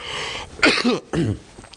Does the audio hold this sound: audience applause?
no